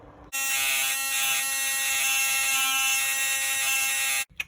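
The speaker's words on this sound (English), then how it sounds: "So I'm going to get my high-speed rotary tool out now, this one here, with the grinding tip." A high-speed rotary tool fitted with a grinding tip grinds down plastic on a 2001 HOBAO Hyper 10 Pro nitro RC car, a loud steady high-pitched whine that starts abruptly, runs about four seconds, then stops.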